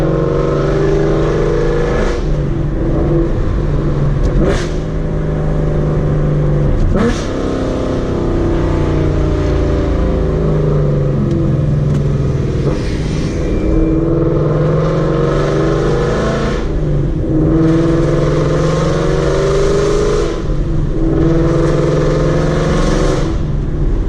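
A car with a very loud aftermarket exhaust revs hard again and again, deep roaring bursts rising and falling close up over about twenty seconds, with no talk.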